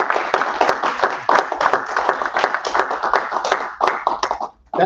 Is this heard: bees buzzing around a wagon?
no